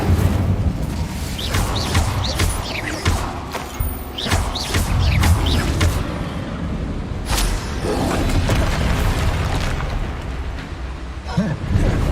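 Incendio fire spells cast repeatedly in Hogwarts Legacy, a steady run of whooshing flame bursts and crackling impacts over busy combat noise for the whole stretch.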